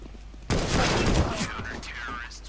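Gunfire in the video game CS:GO, a sudden loud burst of rapid shots that rings out for about a second and then trails into game noise, with players talking over it.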